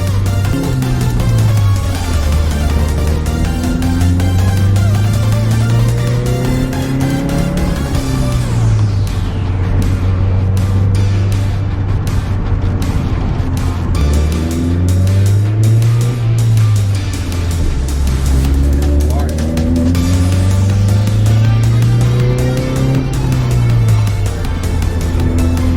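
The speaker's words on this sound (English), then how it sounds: "this is the second try of the drive-by for the MR2" A Toyota MR2 with a built TRD engine revs and shifts as it drives past, engine pitch rising and falling through several loud gear pulls over a steady roar, close and sustained.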